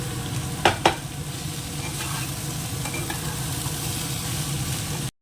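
Mung dal and pumpkin frying in a pan while being stirred: a steady close sizzle with two sharp scraping clatters early on, then continuous hissing until it cuts off.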